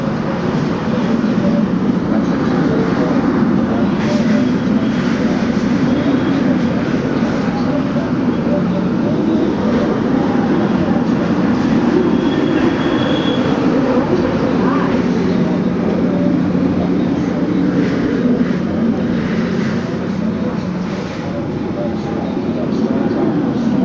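Hurricane wind roars steadily through a building as a dense, continuous rushing drone with a faint whistling edge. People talk over the wind throughout.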